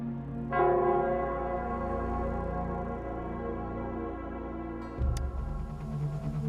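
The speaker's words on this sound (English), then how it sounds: "it's the Nell Squares bell" The Nell Square bell tolling in the video game Wuthering Waves, a single deep ringing strike that swells and slowly decays, followed by a second heavy clang near the end, clear and alone.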